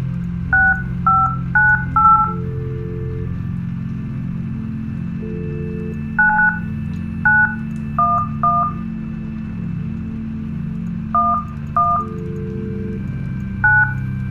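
Touch-tone phone keypad dialing in the horror game The Shining, a series of short beeping tones pressed in quick clusters with pauses between, over a low droning hum.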